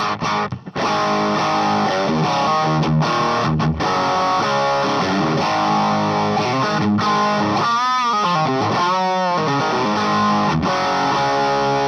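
Electric guitar through the Plexi side of a VANGOA pedalboard, a crunchy overdriven tone with chords and a few choppy stops, then sweeping wah-like phrases, loud and continuous.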